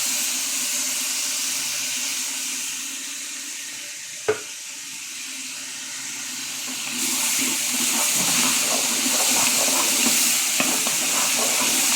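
Ginger paste fries in a hot pan with a steady sizzle, then a single sharp knock followed by louder, busier sizzling and scraping as it is stirred; close, with no voices.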